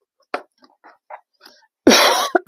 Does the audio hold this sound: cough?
yes